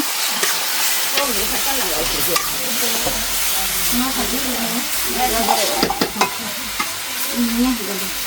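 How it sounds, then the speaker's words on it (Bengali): Meat curry and mustard curry cooking side by side in pans at a home gathering, with steady frying sizzle and scraping stirring throughout, close and fairly loud, as voices chatter in the background. "বৌদি রান্না করতে আসছে মাংস আর এই পাশে বডি সর্ষি রান্না করতে আসছে"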